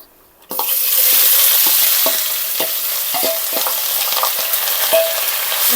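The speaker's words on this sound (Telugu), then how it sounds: "ఇప్పుడు మనం ఉల్లిపాయలు వేసుకుందామండి ఇలా సన్నగా తరకమని పెట్టుకున్నాను" Thinly sliced onions drop into hot oil with a sudden loud sizzle, then fry steadily while a utensil stirs them with repeated scraping knocks against the pan, for a prawn curry; no talking.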